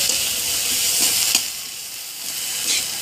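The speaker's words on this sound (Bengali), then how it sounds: "এসব উপকরণগুলো পেঁয়াজের সাথে ভালো করে ভাজতে হবে" Ginger, garlic and cumin paste frying with onion makes a loud, constant sizzle with a soft stirring scrape partway through.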